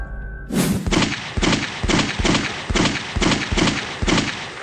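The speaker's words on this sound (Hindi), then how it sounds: "पुलिस वालों पर गोली चला रहा है" Rapid series of about eight loud gunshots fired at police as a dramatic sound effect, sharp booming cracks at an even quick rhythm, close and alone.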